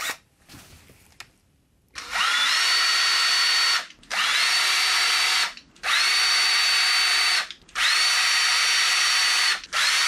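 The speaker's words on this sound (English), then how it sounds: "Time to drill some pilot holes for the subwoofer." A power drill drilling pilot holes for mounting a subwoofer in a speaker kit build whirs in four sustained bursts separated by short pauses, loud and close, with a steady high motor whine in each run.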